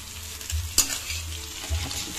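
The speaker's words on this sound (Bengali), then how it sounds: "এবারে খুব ভালো করে মিশিয়ে নিতে হবে আর ভেজে নিতে হবে" Food being stirred and fried in a pan, a continuous sizzle with scraping utensil strokes and one sharp clink of metal, close and alone without voices.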